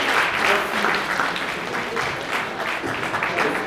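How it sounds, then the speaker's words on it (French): An audience claps steadily, a dense patter of applause that holds for a few seconds with no voices over it. "je veux bien que vous l'applaudissiez"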